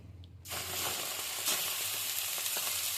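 Moong dal filling with ground peas fries in oil, and a bright, steady sizzle starts abruptly and carries on close up with faint stirring taps.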